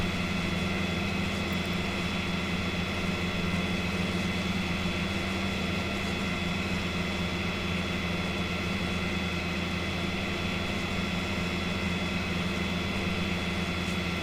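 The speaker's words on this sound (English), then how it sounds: "I'd like for you guys to hear the tractors and that as well" Tractor engines in a farming video game drone steadily and continuously, a low, even rumble with a constant hum that holds for the whole stretch with no talk over it.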